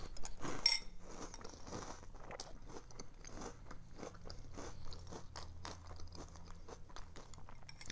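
A mouthful of crunchy, sweet Kellogg's cereal is chewed close up, producing a soft, steady series of crackling crunches and bites without any talking.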